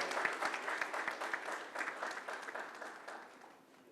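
An audience applauds the chief guest, Dr. Navrang Saini, at the inaugural session of a conference, with steady clapping that fades slightly toward the end and no talk over it.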